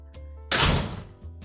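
A door banged shut in a radio play, one loud close slam with a short ringing decay, preceded by a low steady hum.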